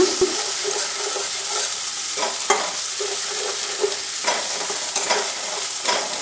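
Masala of coriander powder, chilli powder and salt fries in oil for baby corn butter gravy, giving a constant close sizzle punctuated by repeated stirring scrapes.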